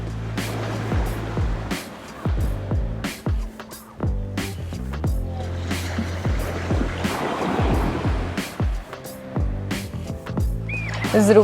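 Ocean waves wash in a steady, continuous surf beneath a calm, sustained music bed, with soft percussive taps scattered throughout.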